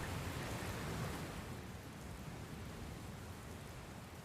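Rain storm in Dragon Quest Builders 2, a dense, even hiss of heavy rain pouring down, steady and unbroken with a low rumbling undertone, no voices.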